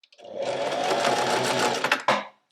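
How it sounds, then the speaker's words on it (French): A sewing machine stitches along a zipper with the presser foot, a close, fast, steady whir of needle strokes lasting about two seconds before a sharp clack and stop. "Et ensuite, on va venir coudre."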